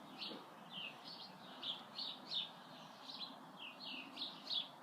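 Birds chirp and tweet in a back garden with decking and a fenced lawn, the short bright calls repeating steadily in clusters at moderate distance over a soft outdoor hush.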